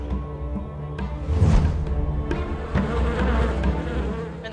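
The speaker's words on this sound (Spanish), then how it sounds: "Salieron las abejas de las celdas y volaron en círculos alrededor de Asnat" A swarm of bees keeps up a continuous, layered buzzing drone for several seconds, with individual insects swelling louder as they pass close, steady and without speech.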